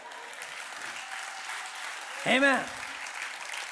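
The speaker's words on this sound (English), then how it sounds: "Let's Have Some Time for Applause." A church congregation claps during a sermon, a steady wash of applause running throughout while a single voice calls out briefly over it.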